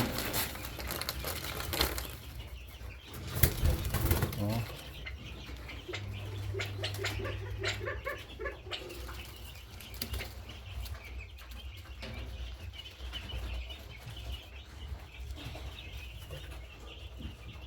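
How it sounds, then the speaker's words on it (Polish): Small quails, including California quail, scratch and peck with soft rustling, brief bursts of wing flapping, and occasional quiet clucking calls, close by. "Damy trochę jeszcze ptaszkom tym małym przepiórkom."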